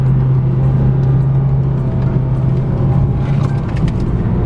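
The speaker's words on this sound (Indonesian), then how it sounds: "Kita akan ngebut ya. Di sini kita akan belok sambil gas." A 2019 Honda Jazz GK5 RS accelerating hard through a turn, its engine droning steadily and loudly at close range with continuous road and wind noise, no talk.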